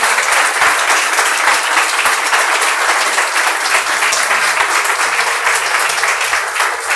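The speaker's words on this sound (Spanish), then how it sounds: "un fuerte aplauso para Daniel" An audience at a 2019 book fair gives Daniel loud, sustained applause, a dense crowd of clapping hands held at a steady level for the whole stretch.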